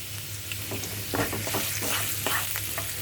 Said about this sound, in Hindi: अदरक, रॉ स्मेल जाने तक इन दोनों को भूनेंगे।